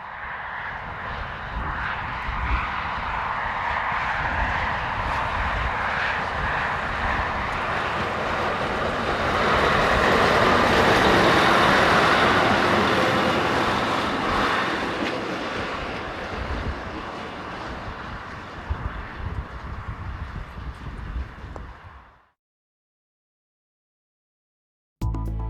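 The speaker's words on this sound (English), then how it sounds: "refurbished SM42 diesel, number 1206, heads light engine towards Nice" A refurbished SM42 diesel locomotive, number 1206, runs light engine along a double-track line, its engine drone swelling from a distance to a loud pass and then fading away before the sound cuts out abruptly.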